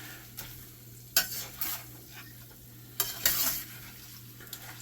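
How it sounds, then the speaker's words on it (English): A spoon scrapes and turns a sloppy joe meat mixture in a hot pan, with a few distinct stirring strokes over a steady low sizzle, close and clear with no talking. "I'm going to just keep mixing this until it's all incorporated."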